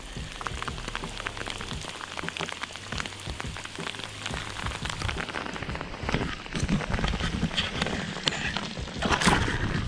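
Rain pours steadily during a fishing outing, a dense broadband patter of drops that stays fairly even and grows a little heavier and nearer toward the end, with no talking over it.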